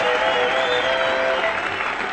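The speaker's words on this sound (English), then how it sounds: "Let's give him a big round of applause." A short, steady burst of audience applause, dense and even, with a faint tonal hum running beneath the clapping crowd.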